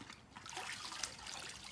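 Water trickles and drips faintly as wet newspaper is wrung out by hand for a worm bin, a soft, steady dribble with no talk.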